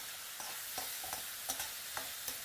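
Tomato and small onions sauté in hot oil in a pan, giving a steady bright sizzle broken by soft scraping stirs at irregular intervals, close and without any voices.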